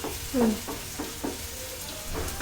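Onions sautéing in a pan until they turn brown, with a soft steady sizzle and a few scraping stirs of a spoon against the pan, close and quiet throughout.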